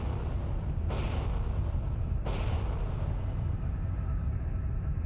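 A deep, sustained earthquake rumble for the 1755 Lisbon quake, loud and continuous, with two sharp bursts cracking through the roar partway in.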